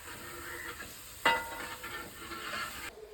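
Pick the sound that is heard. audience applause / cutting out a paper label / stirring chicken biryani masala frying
stirring chicken biryani masala frying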